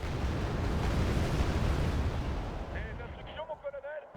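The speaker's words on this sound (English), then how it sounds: "artillery is firing" Artillery fire in a war video game: a dense, rolling rumble of distant blasts that fades away, leaving a few brief tonal chirps at the end.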